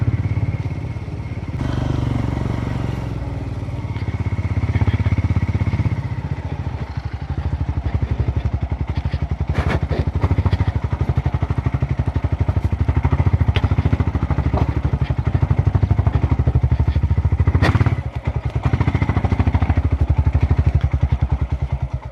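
A motorcycle rides off-road through dense forest, its engine droning steadily and revving as it climbs, with rattling clatter over rough ground throughout.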